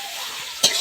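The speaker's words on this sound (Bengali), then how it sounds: "আমি মশলাটা কষে নিচ্ছি এখানে" Spice masala being fried and stirred in a pan, a soft continuous sizzle broken by one sharp scrape of the spoon near the end.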